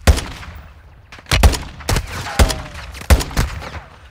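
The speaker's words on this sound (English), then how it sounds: "there's somebody like shooting at us now" Enemy gunfire in Call of Duty Warzone 2, a series of sharp loud shots in uneven bursts, about six distinct cracks with echoing tails over a quiet background.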